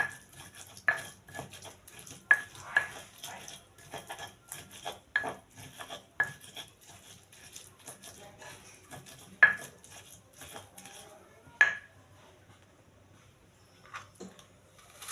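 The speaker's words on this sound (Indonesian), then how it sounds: "Sekarang kita mulai menumis." Spatula scrapes and sharp metallic clinks against a pan as ground spice paste is sautéed for a stir-fry of beans and shrimp, the clicks coming irregularly over a quiet, faint background.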